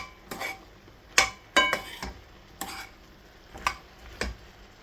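A utensil stirring apples, sugar and grated ginger in a pot knocks and clinks against the sides in about half a dozen sharp, separate taps at uneven intervals, close and clear, with no speech.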